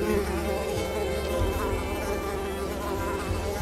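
Mosquitoes drone in a dense, steady insect whine through a swampy level of the platformer Unravel, loud and continuous over a low rumbling music bed with no talking.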